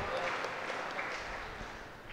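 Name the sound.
audience applause at deanery meeting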